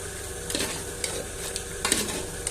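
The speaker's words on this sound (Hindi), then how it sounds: "पहले हम इनकी भुनाई करेंगे टमाटरों के साथ" Mutton frying with tomatoes in a karahi, with a constant close sizzle broken by several scraping strokes of a spoon against the pan.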